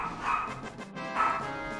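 Two yipping bursts from an excited indoor dog, close by and fairly loud, greeting someone walking in the door, with a brief pause between them.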